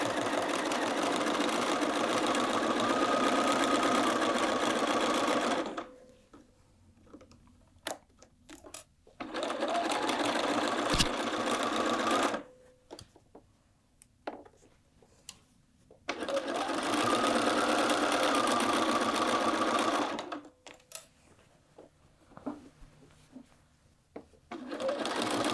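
A sewing machine back tacks the sleeve seam of a quilted jacket. It runs in three close, steady bursts of about five seconds each, with quiet handling clicks and pauses between them.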